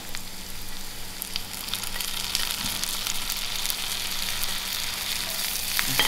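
Fried onions and cumin seeds (jeera) sizzle in a pot while a Durban-style lamb dhal is made, a steady, moderately quiet frying hiss with faint crackles.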